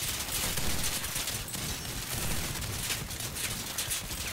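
Incoming gunfire hitting the player's vehicle in Crossout, a dense, continuous rattle of impacts and shots with a hissing, crackling texture, steady and moderately loud, no talking.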